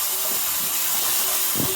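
Cumin and turmeric powder with a little water fry in a pan, giving a steady, close, loud hiss of steam and sizzle that runs unbroken for the whole short stretch.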